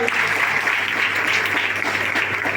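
Steady, dense audience clapping fills an indoor award ceremony honouring model teachers at a Kalika Devi temple trust event. Many hands clap together at an even, sustained intensity.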